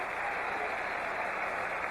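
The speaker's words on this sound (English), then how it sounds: "to the acclaim of the crowd" A football stadium crowd cheers and applauds as Franco Harris of the Pittsburgh Steelers comes out, a dense, steady roar of clapping and voices filling the whole stretch without a break.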